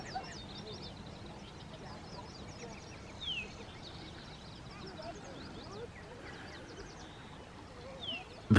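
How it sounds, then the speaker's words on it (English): Birds chirp and call intermittently by a lake over a low, steady background murmur, with distant voices of people on boats faintly audible; a few sharper calls stand out. "you can just hear it's full of birds."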